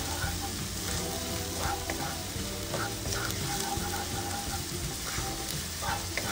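Garlic and ginger fry in hot oil with a steady, dense sizzle, close by and continuous, with faint stirring scrapes now and then.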